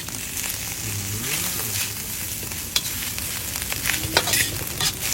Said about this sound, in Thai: ตอกไข่ลงไปแล้วก็ผัดปลาทูของเรา